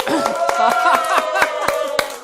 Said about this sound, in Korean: 우리 총장님을 위해서 박수 한번.